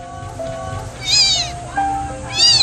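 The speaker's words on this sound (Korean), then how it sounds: "울음소리도 진짜 고양이 같다." High, thin kitten meows repeat a few times, close and loud, with soft background music underneath.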